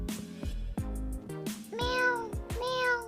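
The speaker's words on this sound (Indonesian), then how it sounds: "Kemudian yang kedua di sini ada bunyi meong atau bunyi kucing" A cat meowing several times in a row, close and clear, with drawn-out rising and falling cries over a soft musical backing.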